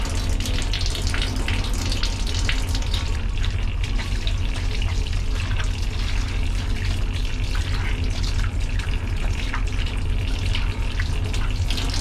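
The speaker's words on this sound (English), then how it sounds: "So I'm gonna wash my hands again" Hands washed under a running tap: a loud, continuous gush of water with faint rubbing and splashing, close and steady with no talking.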